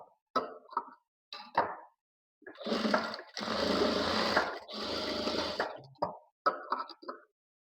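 A sewing machine joins the front and back shoulder seam of a boat neck blouse, running in two sustained, steady bursts in the middle with brief clicks and handling sounds before and after.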